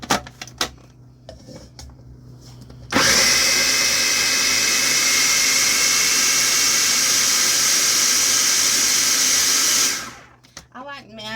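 A blender chops canned diced tomatoes for meatloaf, whirring loudly and steadily for about seven seconds before spinning down, with quieter kitchen handling before and after.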